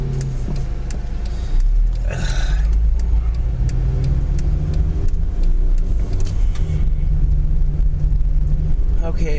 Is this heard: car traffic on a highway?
yes